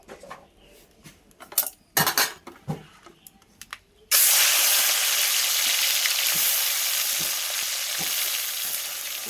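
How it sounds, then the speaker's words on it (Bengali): Shrimp dropped into hot oil in a wok, preceded by a few scattered clinks and taps, then a sudden loud, steady sizzle of frying that carries on without letting up. "দিয়ে চিংড়ি মাছগুলো দিয়ে ভাজতে থাকবো।"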